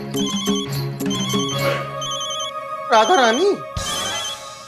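A telephone rings with an incoming call, giving repeated electronic ringtone bursts, loud and close, while people talk over and between the rings.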